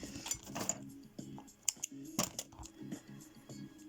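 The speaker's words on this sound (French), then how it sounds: "il me gêne ce fil, je vais le couper" Scissors snipping crochet thread while making crocheted earrings, a few small close metallic clicks and snips scattered between quiet handling sounds.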